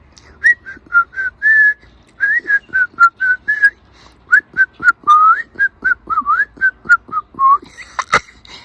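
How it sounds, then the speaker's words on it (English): A person whistles a lively tune alone, loud and close, in quick runs of short notes with brief pauses between phrases, ending with a sharp clatter. "Can you whistle?"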